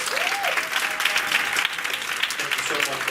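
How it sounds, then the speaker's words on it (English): Dense, sustained applause from a town hall audience for Dr. Kwasi Konadu, a steady wash of many hands clapping at close range, with a brief voice rising faintly over the crowd. "Let's give Dr. Konadu another round of applause."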